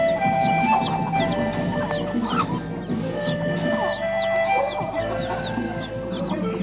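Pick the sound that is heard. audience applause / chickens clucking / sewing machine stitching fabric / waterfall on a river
chickens clucking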